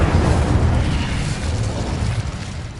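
Incendio fire spell cast in Hogwarts Legacy, a burst of roaring, booming flame that stays loud and rumbling throughout, with no talk.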